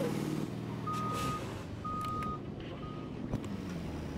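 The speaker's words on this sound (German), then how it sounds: "Benutzt jetzt den LKW" A truck in the Fortnite video game backs up, sounding three evenly spaced reversing beeps over a low engine rumble, with a short clunk near the end; no one speaks.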